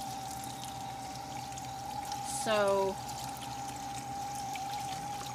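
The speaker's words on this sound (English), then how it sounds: "the water's gonna splash out" A small homemade water garden fountain splashes and pours continuously beside a steady pump hum, with a brief burst of louder splashing midway and a person speaking briefly.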